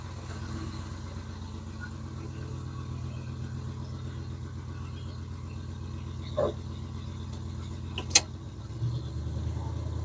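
A 1987 Oldsmobile Cutlass Supreme 442 idles steadily at a slightly high fast idle after a cold start, a low continuous rumble with a brief clink near the end and a deeper swell in the final seconds.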